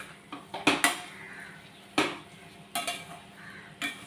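Upma being stirred and mixed in a pan with a metal spoon, several sharp scraping clinks and knocks against the pan in uneven bursts over a quiet background, no talking.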